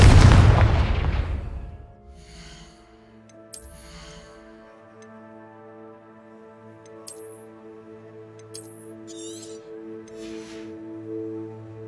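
A Confringo explosive blasting spell from the Hogwarts Legacy video game goes off as one loud, close boom that rolls away over about two seconds, leaving sustained game music and small clicks behind it.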